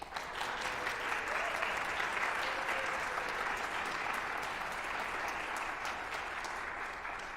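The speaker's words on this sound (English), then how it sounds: "Give them a big round of applause" Sustained applause from a large audience at a chamber orchestra gala, steady and dense throughout, with a slight fade near the end.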